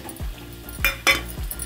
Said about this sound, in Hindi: अब इसको चलाऊँगी